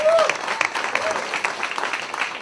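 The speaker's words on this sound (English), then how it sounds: "let me hear the applause for the service people" Audience at a stand-up comedy show at the Camino Real Playhouse applauding military service members, with brisk, close clapping mixed with whoops and cheers across the short burst.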